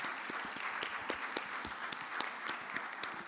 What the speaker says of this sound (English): they stand up and we clap for them